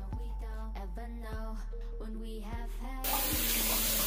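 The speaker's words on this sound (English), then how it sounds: "I'm gonna go ahead and wash this off and put my moisturizer on" Tap water rinses a thick kale face mask off the face. A sudden, loud, steady rush of running water comes in the final second, after a stretch of tonal background music.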